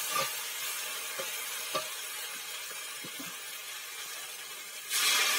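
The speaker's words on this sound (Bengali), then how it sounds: "বাটা মশলা আর লঙ্কার গুঁড়ো দিয়ে কিছুক্ষণ নেড়ে চেড়ে ভালো করে কষিয়ে নিচ্ছি।" Ground spice paste and chilli powder fry in oil for a fish curry, giving a continuous soft sizzle with faint stirring taps and a brief louder hiss at the end.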